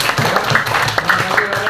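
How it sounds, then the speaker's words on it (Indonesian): Schoolchildren clap for a classmate after a speech in a classroom, a loose, uneven patter of hand claps close at hand, mixed with voices talking over it. "tepuk tangan untuk Rahel"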